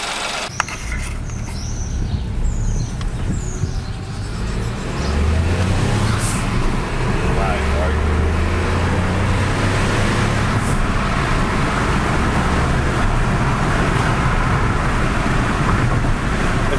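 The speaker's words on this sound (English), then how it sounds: "take it for a drive and see what happens." Ford Fiesta EcoBoost car driving on a road after a blow-off valve install, its engine and tyre roar a steady close drone rising partway through, with brief higher whooshes and bird chirps over the road noise.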